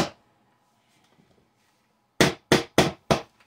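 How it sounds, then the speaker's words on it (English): A hammer works open a plastic food-storage bucket lid: one sharp hit, a quiet pause with faint handling, then four loud, evenly spaced knocks close by. "to open these buckets, you literally need like a this side of the hammer to pull it out"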